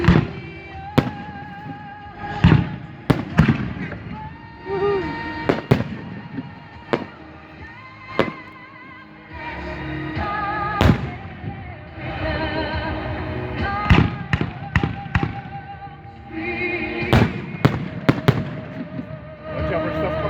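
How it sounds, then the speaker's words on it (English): New Year's Eve fireworks burst repeatedly along a roadside, with sharp loud bangs and crackles at irregular intervals over a continuous rumbling background for about twenty seconds. "As you can see the firework going off."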